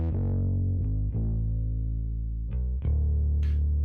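A low, gritty FL Studio synth line with heavy distortion, EQ, compression and Decapitator saturation plays a few sustained notes, each attack cutting in sharply before droning on.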